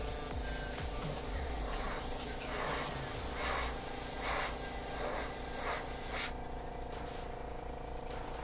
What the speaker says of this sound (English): I'm probably spraying at a higher PSI than I should do.